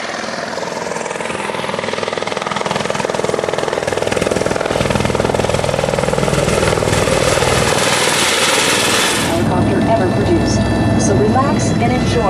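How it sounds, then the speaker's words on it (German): A helicopter flies over Niagara Falls, its rotor chop and turbine whine loud and continuous, shifting in tone partway through as the craft maneuvers. "der kann auf jeden Fall noch mal in den Helikopter steigen und dieses ganze Spektakel Niagara-Fälle von oben"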